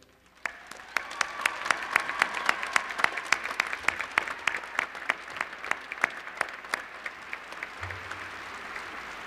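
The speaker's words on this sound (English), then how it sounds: "Graduates, would you like to now applaud them for your support?" Graduates applauding at a university spring commencement ceremony, a large crowd's sustained clapping filling a big hall, steady and enthusiastic throughout with a few sharp individual claps standing out.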